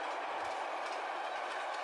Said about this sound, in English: Through the countryside chugs the powerful freight train.